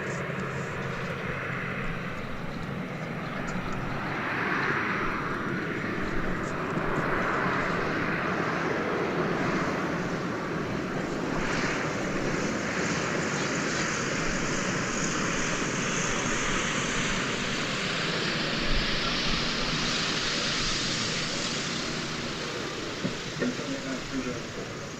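A Grumman Widgeon seaplane with six-cylinder engines drones steadily for over twenty seconds, a broad roar whose pitch sweeps as it passes, with a wash like water underneath.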